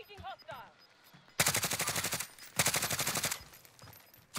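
Two long bursts of rapid automatic gunfire from the shooter game Rebirth rattle loudly in quick succession, with faint game sounds before them and a third burst starting at the end.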